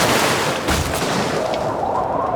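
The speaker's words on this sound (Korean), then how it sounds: "아니나 다를까 세찬 바람이 불면서 산 같은 파도가 배를" Storm waves crash over a ship in a sound effect, a dense, loud, continuous roar of churning water and wind with rough surges throughout, no voices.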